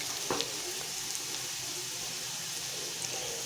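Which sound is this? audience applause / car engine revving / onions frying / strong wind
onions frying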